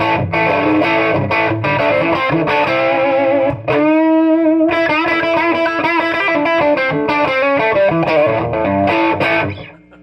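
A loud, heavily distorted electric guitar on its bridge pickup at full volume grinds through a modified Fender Musicmaster Bass amp, playing chords and a sustained note before the sound cuts off at the end.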